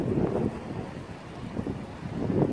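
Sea waves break against rocks in a bay on Tenerife, a soft, distant rushing surge that rises and falls under gusty wind noise.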